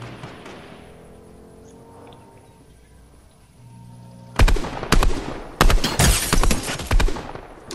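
Gunfire in the Fortnite video game: a quiet stretch, then loud, close bursts of shots in several clusters, each volley sharp and dense, with a brief gap between the first and later bursts.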